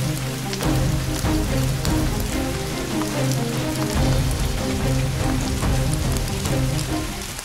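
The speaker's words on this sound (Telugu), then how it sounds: "రెండు రోజుల నుంచి కురుస్తున్న వర్షానికి రహదారులన్నీ జలమయమయ్యాయి." Heavy rain pours steadily in Vijayawada during two days of downpour, a dense, loud, continuous hiss and patter of drops striking surfaces nearby, with no voices.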